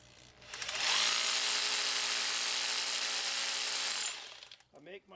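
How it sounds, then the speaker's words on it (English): A power drill whirs loudly at high speed for about three seconds while drilling into rock, then winds down and stops. "Try to drill it now"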